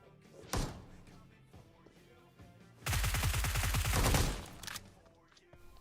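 UMP submachine gun fire in the PUBG video game: a dull thump early on, then a loud, rapid automatic burst of tightly spaced shots lasting over a second before it cuts off.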